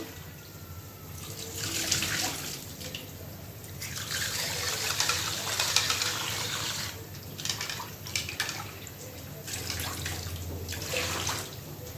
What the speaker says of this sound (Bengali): শুটকিগুলো আগে ভালোভাবে ধুয়ে নিব